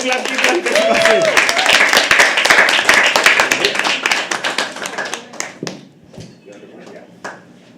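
A crowd claps for an incoming poet at a live poetry open mic, loud dense applause for several seconds that thins into scattered individual claps and fades out, with a voice speaking over it.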